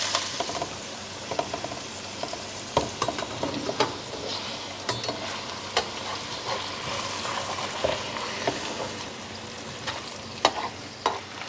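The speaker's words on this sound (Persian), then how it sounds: "کبابا که به این صورت کمی تفت خورد برمیگردونیم" Shami kebab patties, Rudbari pan-style, sizzle and fry steadily in a pan, with occasional sharp spatters and clicks of a utensil turning them, close and continuous with no talk.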